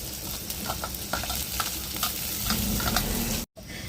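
Onions and green chillies fry in oil in a pan, a close, steady sizzle with scattered scraping and stirring clicks and a brief cut near the end.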